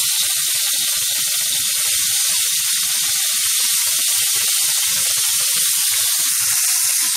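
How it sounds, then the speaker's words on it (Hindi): Fish frying in a pan for Konkani kalchora fish curry, a loud, constant hissing sizzle close up, with small bubbling pops running underneath throughout. "अभी इसको मैं फ्राई करने लूंगी।"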